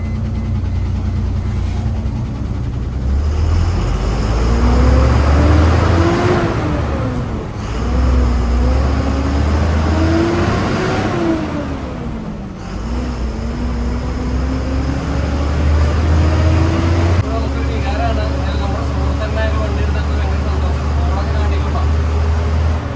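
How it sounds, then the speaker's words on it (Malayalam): A 12-metre ATP tourist bus in Kerala being driven, its engine rumbling steadily and loud throughout, with rising and falling whine as it changes speed under continuous cabin noise. "നമ്മുടെ ATP 12 മീറ്റർ നമ്മുടെ സുഹൃത്തിന്റെ വണ്ടി നമുക്ക് ഓടിച്ചു നോക്കാം"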